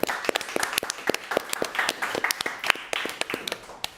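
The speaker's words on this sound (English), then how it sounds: "So please give all of them a big round of applause here." Audience applause at a press conference announcing IQM Quantum Computers' funding round: a few seconds of scattered, moderately close hand clapping from a modest crowd.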